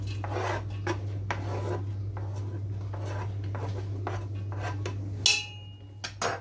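Food rubbed over a grater while making Moroccan white bean stew, repeated close rasping strokes in an uneven rhythm over a steady low hum, ending with a few clattering knocks.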